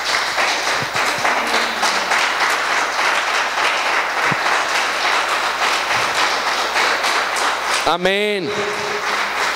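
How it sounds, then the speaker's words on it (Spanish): A church congregation claps steadily throughout, a dense, sustained applause with voices talking over it and a brief sung or called-out tone rising near the end. "Denle un aplauso al Señor por eso."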